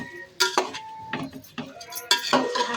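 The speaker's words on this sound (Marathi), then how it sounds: "तांदूळ टाकून ना हलवून घेऊया भाजायला" A spoon stirs basmati rice roasting in a pan, giving a few scraping, clinking strokes against the metal in irregular bursts, close and fairly loud with no talking.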